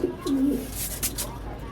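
Pigeons brought down to sit in the sun near the end of their moulting season give one short, low coo up close, followed by faint rustling.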